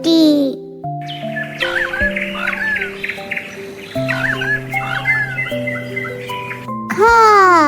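A cockatoo gives sharp rising-and-falling screeching calls at the start and again at the end, loud and close, with a bright cartoonish melody of sustained tones and chirpy accents playing between them.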